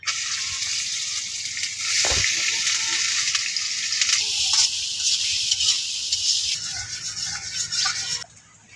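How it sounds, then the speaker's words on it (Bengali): Onions and green chillies fry in oil in a wok with a steady bright sizzle and crackle, close and loud. The hiss persists with small shifts before it cuts off abruptly at the end. "কড়ার মধ্যে তেলটা দিয়ে নিতেছে, এদিকে পেঁয়াজ কাঁচামরিচ দিয়ে নিতেছে সম্বাসে"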